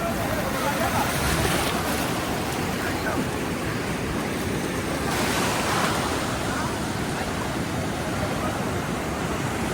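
A constant loud rush of sea surf and wind, with swells of heavier crashing waves, continuous and close.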